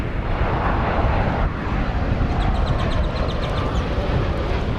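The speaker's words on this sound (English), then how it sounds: "watch the Madrid flight go over to the east side for takeoff" An airliner bound for Madrid taxis out at DFW Airport for takeoff. Its engines make a loud, steady broadband roar, and a faint chirping sounds in the background toward the end.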